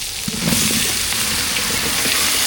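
Cut pumpkin pieces dropped into hot tempering in a pan, giving a loud, close, continuous hiss and crackle of sizzling oil that swells right after they go in and stays steady.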